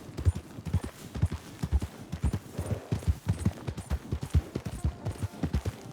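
Horses' hooves clip-clop in a steady, lively rhythm across open ground in Red Dead Redemption 2, the western video game, with several animals trotting close by and no voices.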